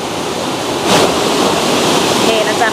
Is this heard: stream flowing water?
yes